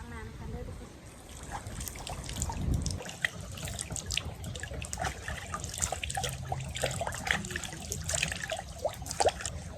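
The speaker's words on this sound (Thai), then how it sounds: "ตอนนี้ก็มาล้างน้ำกันด้วยทุกคน" Water runs and trickles steadily outdoors on a hillside as people rinse off without soap, with splashing and dribbling throughout and voices talking over it.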